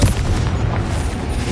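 Confringo fire-blast spell cast in Hogwarts Legacy on PS5: a dense, booming explosive burst with sustained low rumble filling the moment, loud and close, with no talk over it.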